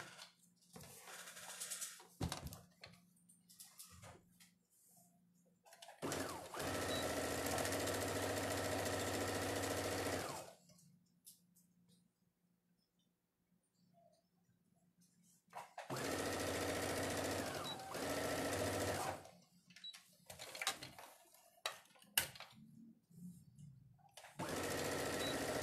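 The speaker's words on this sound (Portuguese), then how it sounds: "Vou trazer a minha máquina e vou costurar para vocês verem." A sewing machine stitches a small felt doll shoe in two steady whirring bursts of about four seconds each, with short motor spurts and quiet pauses between runs.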